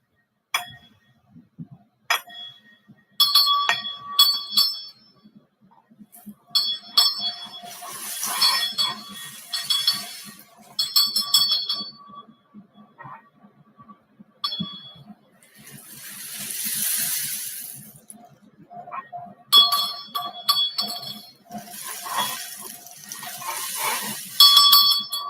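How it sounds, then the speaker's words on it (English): Root chakra bell rung during a group prayer gathering, with bright metallic chimes struck repeatedly in scattered clusters, ringing out over soft rustling and a hissy rain-like shaker passage. "Kingston's got the root chakra bell going."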